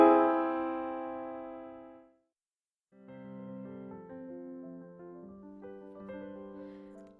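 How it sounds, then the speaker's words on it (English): Augmented triad on a keyboard-like instrument: one sustained chord fading out, then after a short silence a quieter series of notes played one after another, clear and alone. "Another very similar chord to that is the augmented triad"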